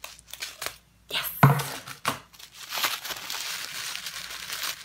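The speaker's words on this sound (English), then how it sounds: "Don't you love that crinkle?" Crinkling plastic packaging of beauty products being handled up close, with a few sharp rustling bursts and brief crackles amid quieter handling.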